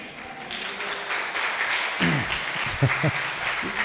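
Applause from a congregation or audience at a talk, a steady crowd clapping throughout, with a voice speaking briefly over it near the end.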